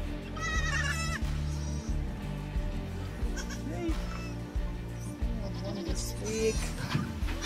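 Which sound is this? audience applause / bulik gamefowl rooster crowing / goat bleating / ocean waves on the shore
goat bleating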